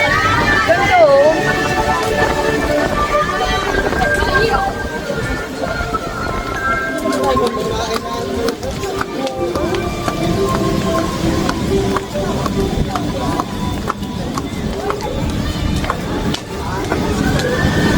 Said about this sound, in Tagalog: Sobrang lakas ng hangin, tapos umuulan na.